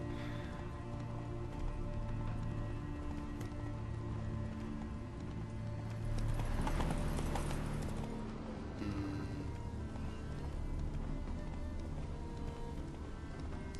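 Horse hooves clopping steadily along a trail while riding in The Witcher 3: Wild Hunt, a continuous rhythmic patter under game music and ambience, swelling briefly midway.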